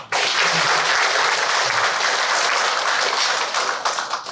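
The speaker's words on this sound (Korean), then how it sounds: "지부장님께도 박수 한번 크게 보내주시죠" Sustained applause from an audience at a launch ceremony for a footwear industry labour-management council, a dense, steady wash of many hands clapping throughout.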